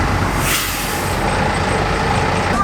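Bus in Guatemala arriving with a loud hiss of air brakes at the start, followed by a heavy engine rumbling up close.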